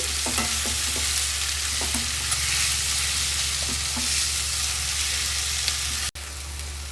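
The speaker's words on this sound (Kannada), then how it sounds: "ಚೆನ್ನಾಗಿ ಫ್ರೈ ಮಾಡ್ಕೊಳ್ಳಿ" Ingredients for raw mango chitranna fry in a pan with a steady sizzle, broken by repeated light scrapes and taps of a stirring spoon, and one sharp knock near the end.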